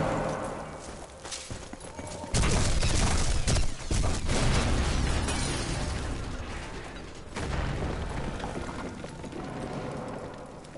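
Gunfire and explosions in the WWII stealth shooter Sniper Elite 4, set in Italy: a loud blast breaks in after a quieter stretch, followed by sustained rumbling and crackling battle noise, with a second surge later.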